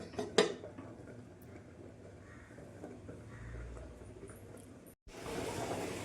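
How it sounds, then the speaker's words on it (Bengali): One short metallic clank of a lid set onto a cooking pot of soybean and potato curry rings out near the start, then quiet kitchen background follows. "আবার আমি ঢাকা দিয়ে দেবো।"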